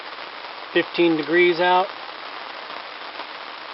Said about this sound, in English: As you can hear, it's pissing rain.